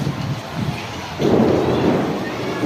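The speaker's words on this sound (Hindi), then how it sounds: "इतने ज़्यादा बरस रहे थे, गरज रहे थे" Rolling thunder rumbles beneath steady rain, and the downpour swells louder partway through, a dense hiss of water all around.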